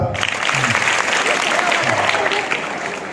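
An audience at a Police Raising Day guidance session claps together, a dense, continuous burst of applause that stays loud for about three seconds before easing slightly.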